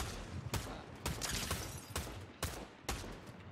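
Gunfire in Fortnite, a fast volley of shots cracking out in several loud bursts spaced about half a second apart, with a steady rumble of game noise between them.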